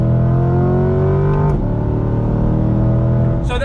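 A 2020 Chevrolet Camaro ZL1 1LE pulls hard in second gear after a downshift, its engine note climbing steadily and loud from inside the car, with a brief shift break midway and a whoosh at the end.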